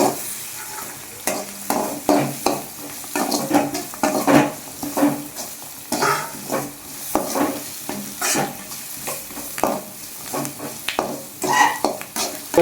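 Onions and grated coconut sizzle in a pan on the stove while a spoon scrapes and stirs them in irregular strokes, close and moderately loud, with no talking.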